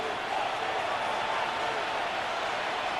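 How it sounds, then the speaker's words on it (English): A loud, continuous stadium crowd roar fills an EA Sports American football video game, a steady wash of noise with a voice speaking faintly underneath. "The noise very loud from the crowd."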